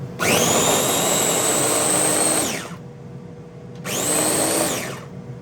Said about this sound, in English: Let's bring that over to the blender now.